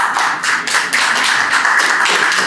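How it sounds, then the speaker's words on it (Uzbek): Audience applause at a hackathon startup pitch event on stage, a dense, steady wash of clapping, loud and close, lasting a few seconds with no talk. "Olqishlab turamiz azizlar."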